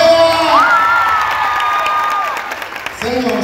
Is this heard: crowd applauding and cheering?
yes